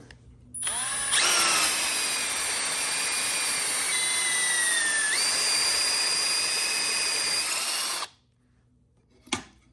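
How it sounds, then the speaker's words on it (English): A power drill bores dowel pin holes in wooden parts for a kid's chair, whining steadily and close for about seven seconds with its pitch dipping under load, then a short knock follows. "we know where to drill our other holes for the dowel pins, corresponding holes"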